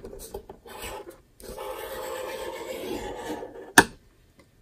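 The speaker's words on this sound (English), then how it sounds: "I'm going to get out the Simply Scored scoring tool and we'll score our box first" A scoring tool rasps along paper on a scoring board while a Christmas box is made, a steady close scraping stroke ending in a sharp click, with no voices.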